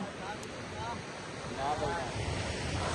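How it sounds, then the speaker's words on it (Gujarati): Sea waves roll in at the shore near the Dwarka lighthouse, a steady surf roar with wind buffeting the microphone and a faint murmur of voices in the background. "જો ખાલી લેરું જોવો, ખાલી પાણી લેરું જોવો કેમ આવે"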